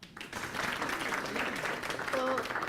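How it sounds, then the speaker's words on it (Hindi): Audience at a rural farmers' discussion gathering in Haryana applauding: a steady burst of clapping that starts abruptly and continues to the end, with a voice briefly audible near the close. "एक बार तालियां भाई"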